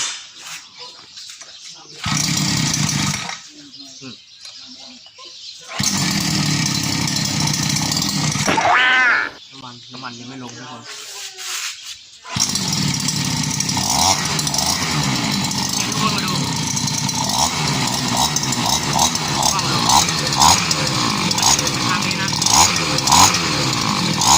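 A motorized bicycle's small fitted engine runs loud and steady through the second half, after a stretch of choppy stop-start bursts and brief quiet gaps, with a rough, buzzing drone.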